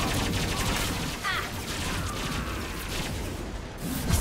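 Dense, sustained gunfire fills a Mass Effect 2 firefight, a steady crackle of rapid shots that continues throughout with only brief dips in intensity.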